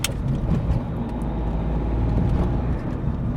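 Inside a 2021 VW Polo Vivo GT on the move, a steady low engine and road drone fills the cabin, with an initial click and slight swells in rumble, no voices.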